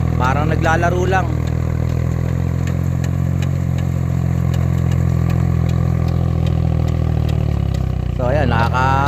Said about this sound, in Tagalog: Ganun lang kabilis pag meron kang traktora dito. Madali lang magbungkal ng lupa.